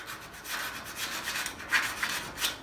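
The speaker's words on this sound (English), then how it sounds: "just go over with a bit of sandpaper just afterwards" Sandpaper rubbed by hand over a steel body panel during a classic Mini pickup restoration, a steady close scratchy rasp with a few sharper strokes standing out near the end.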